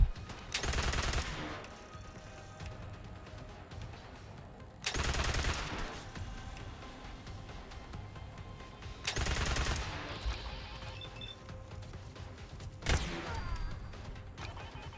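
A Discharger laser pistol firing in Fallout 4, heard as three loud, sustained bursts of rapid energy-weapon fire at regular intervals, then a shorter burst near the end, with quieter game ambience between them and no talking.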